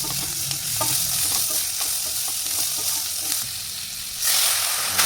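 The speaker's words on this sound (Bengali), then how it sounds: "বরবটিটা হালকা ভেজে নিয়ে" Yardlong beans sizzle loudly in a pan while being stirred, with repeated scraping and clacking of the spatula over continuous frying hiss and a sudden louder burst of sizzle near the end.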